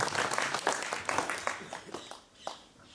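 An audience at a village school poetry gathering breaks into applause to welcome a guest, a dense, loud burst of clapping that thins out toward the end.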